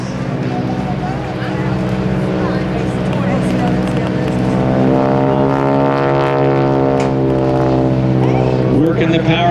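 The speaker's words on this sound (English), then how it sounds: "he's slowing it down, pointing it into the wind, going slower and slower every second, pulling that nose up for the Texan high alpha pass" A T-6 Texan propeller aircraft slows with its nose pulled up for a high-alpha pass at an air show, a loud, steady droning engine with strong harmonic bands that shift pitch as power changes.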